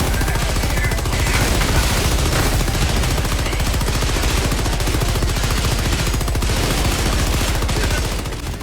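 Continuous, loud, rapid automatic gunfire in Helldivers 2, a dense machine-gun rattle that runs without a break for the whole stretch, with no audible talk.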